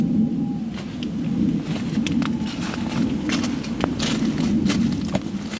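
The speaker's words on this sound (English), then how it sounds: "It sounds like footsteps," Footsteps heard during a thunderstorm in a camping scene, a series of soft irregular steps and thuds over a continuous low rumbling wash of storm and rain noise.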